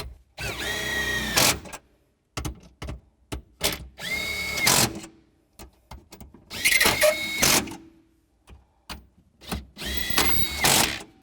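A power tool tightens down studs on a car seat in several bursts of whirring, buzzing drive separated by pauses and small clicks, close up with no speech.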